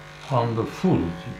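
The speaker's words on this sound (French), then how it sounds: "Couper tous ces cheveux, mais ça coupe pas ce rasoir." Electric razor buzzing steadily while cutting hair during an at-home haircut, a continuous hum running under close conversation.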